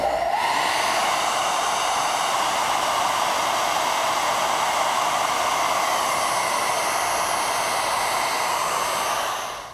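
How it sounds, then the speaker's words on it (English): A hair dryer blows hot air to melt candle wax off furniture, a loud, steady close whoosh that holds unbroken for nearly ten seconds before easing slightly at the end. "For that, a hairdryer is perfect."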